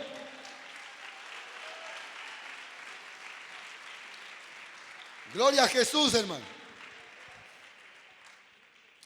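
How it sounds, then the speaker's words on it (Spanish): A short, loud burst of group clapping from a church congregation rises midway and then fades. A pastor speaks before it, with a murmuring crowd in the background. "Y dan palmas al Señor"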